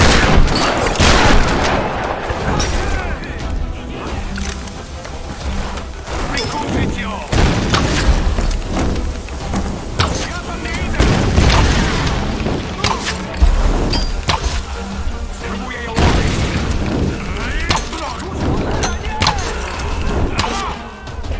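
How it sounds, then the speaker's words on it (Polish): Shotgun blasts and gunfire from the video game Tomb Raider, dense bursts of booming shots and rapid fire crowding together, loud and continuous through the whole stretch. "Dobra, trzeba użyć shotguna."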